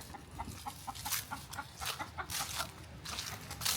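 A backyard chicken clucks over and over in short, quick bursts at close range and fairly faint, with a few louder rustling noises mixed in and no one talking.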